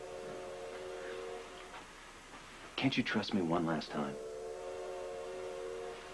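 A moving train gives off a steady, droning mechanical hum throughout, with voices talking briefly over it partway through.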